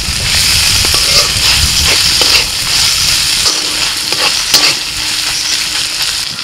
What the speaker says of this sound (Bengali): আদা রসুন একটু ভেজে দিয়ে দিচ্ছি টমেটো কুচি।